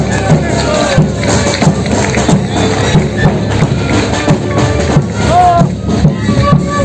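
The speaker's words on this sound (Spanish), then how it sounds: "Vamos a despedir con un fuerte aplauso." A crowd at a festival of traditional Andean dances in Carabuco, Camacho province, claps and cheers in a loud, dense mass, with rhythmic thumps and shouting voices mixed throughout.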